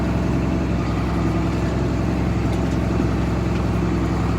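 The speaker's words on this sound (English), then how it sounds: "And now the tractor will bring itself back around and follow this terrace again." A tractor steering itself on auto steer along a field terrace, its engine a constant low, heavy drone heard from inside the cab with no break in the rumble.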